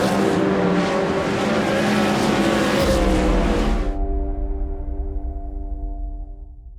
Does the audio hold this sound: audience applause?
no